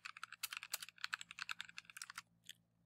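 Rapid, fairly quiet typing on a computer keyboard, a close run of crisp key clicks for a couple of seconds ending with a final tap, no voices.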